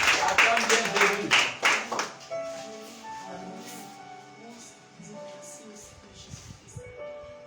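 A church congregation at a French-language worship service claps loudly in quick bursts to acclaim Jesus, then the clapping thins into scattered taps under voices and talk.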